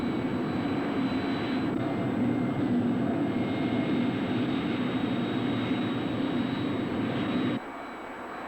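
A QF-9 remotely piloted jet aircraft takes off from the runway with a steady, loud jet engine roar that holds for several seconds before dropping abruptly in level.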